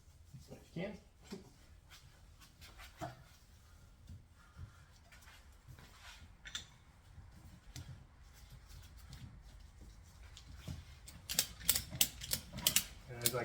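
A ratchet strap wrapped around a tire is cranked tight in repeated clicking bursts, growing louder and quicker toward the end, with mechanical creaks and low background noise.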